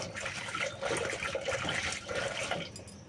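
Water poured steadily into a cooking pot holding jute greens and jackfruit seeds for a curry, a continuous splashing gush that runs for about three seconds and tapers off at the end, with no voices.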